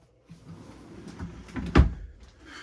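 A closet door or drawer in a camper's bedroom is opened, giving a brief soft rustle that builds to one sharp wooden clack of the door or latch, close by and alone.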